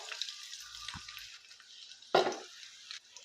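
Two finely chopped green chilies sizzle in about three spoons of hot oil, a steady crackling fry with a brief louder burst of spatter near the middle, no talking.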